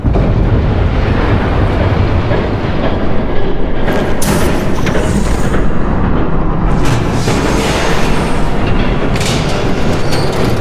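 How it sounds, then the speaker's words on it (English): A train rumbles past in Batman: The Telltale Series, a loud, continuous low roar with rattling carriage noise and a few heavy bursts, no talking over it. "There's a train coming."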